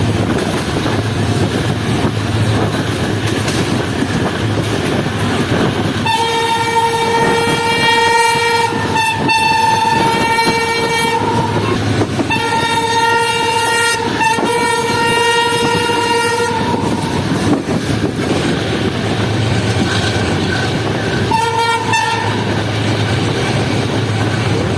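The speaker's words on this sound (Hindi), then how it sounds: "तो तकरीबन 9 मिनट चलने के बाद ट्रेन पहुंच चुकी है सुगलांडी जंक्शन रेलवे स्टेशन पर" The Zikriya Express rumbles steadily on its run into Sugalandi junction in Pakistan, heard from inside the carriage with constant rolling noise and clicking wheels. Loud, sustained horn blasts sound repeatedly over the din.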